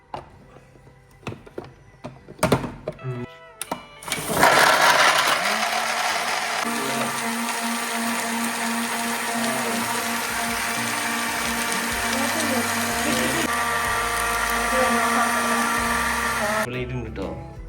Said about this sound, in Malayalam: മിക്സി എന്താണെങ്കിലും വർക്കിംഗ് അടിപൊളിയാണ്